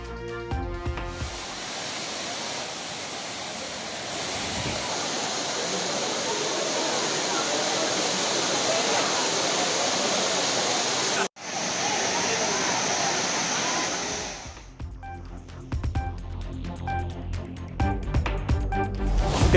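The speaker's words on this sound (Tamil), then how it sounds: "ஆர்ப்பரித்து கொட்டும் அருவி நீரில் குடும்பத்தினருடன் குதூகல குளியல் போட்ட பொதுமக்கள்." Water cascades down the Courtallam waterfalls with a loud, continuous rushing roar that holds steady for about ten seconds. Other sounds briefly frame the roar at the start and end.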